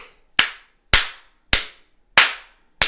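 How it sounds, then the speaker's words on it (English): Five sharp, loud single hand claps, evenly spaced and slow, each ringing briefly into silence, close by in a quiet room. "Claps for my boy Oliver."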